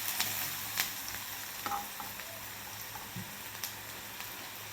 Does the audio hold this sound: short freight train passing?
no